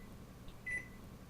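A kitchen oven timer being set gives a couple of short electronic beeps over a quiet room hum, the second beep slightly longer and clearer.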